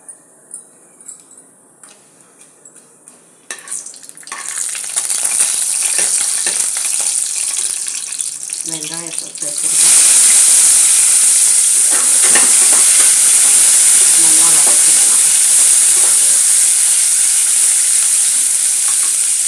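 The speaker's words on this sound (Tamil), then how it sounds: "நீங்கள் விருப்பப்பட்டால் சீரகமும் சோம்பும் வந்து தாழ்த்திக்கலாம்" Cumin and fennel seeds crackle and sizzle in hot oil in a pot for a vegetable pulao, starting with soft clicks before a loud, steady frying hiss takes over close by.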